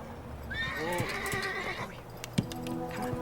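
A horse whinnies loudly and close, a long descending neigh followed by snorts and a few hoof thuds, with no talking over it.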